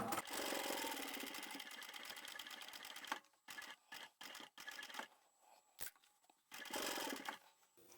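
A sewing machine back stitches fabric cut from an old tie, with bursts of rapid mechanical stitching broken by short pauses, slower clusters of individual stitch clunks, and a final quick run.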